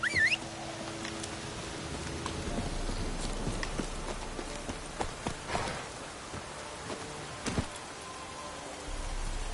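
Roach the horse gallops in The Witcher 3 video game, hooves clopping in a steady, moderately close rhythm over soft outdoor ambience, with a few sharper thuds along the way.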